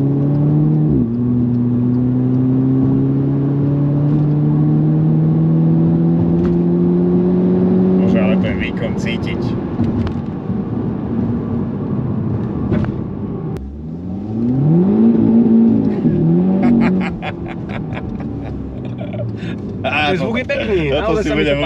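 A VW Golf GTI on winter tyres accelerating hard, engine note climbing loudly through the revs, then a gear change and another strong pull with rising pitch, as people talk over it.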